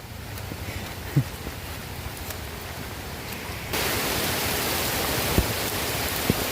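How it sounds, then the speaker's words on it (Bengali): Heavy monsoon rain falling steadily in a riverside area, a dense broadband hiss that grows louder partway through, with a few sharp drips or knocks standing out nearby. "বর্ষার মৌসুম, কি পরিমাণ বৃষ্টি হইতেছে দেখুন।"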